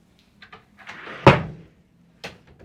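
Sliding closet door in a Disney Wish cruise ship cabin with a slanted porthole, rolling with a few light clicks and a scrape, then a firm knock as it stops, followed by another softer bump.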